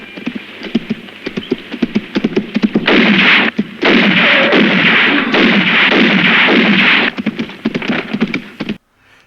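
Gunfire in an Italian western film comes as a rapid run of sharp cracks, then dense sustained volleys, mixed with hoofbeat-like clatter, loud and close, with no talk.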